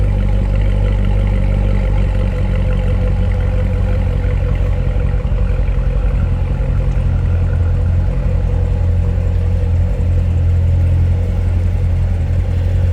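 A 2015 Chevrolet Corvette Z06 Convertible runs steadily at idle with a loud, deep, continuous engine rumble and a lopey throb. It is close up and heard alone, with no talking.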